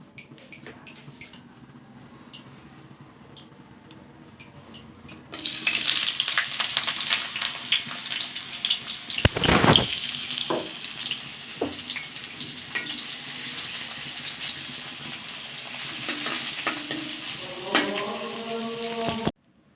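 Pieces of liver dropped into hot oil set off a sudden loud, sustained sizzle after a quiet start, with a clatter and occasional utensil clinks as the frying continues steadily.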